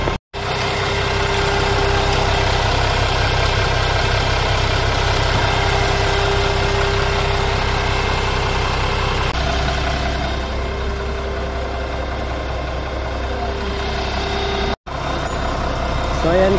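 A Weichai diesel engine idles steadily after repair, a loud, even mechanical drone close by that runs throughout, with a brief cut near the start and another near the end.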